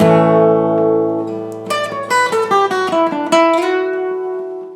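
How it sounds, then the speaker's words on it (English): A sustained guitar chord rings out, followed by a quick run of plucked single notes that resolves into a final ringing chord. "There's a little run you can do at the end of the song."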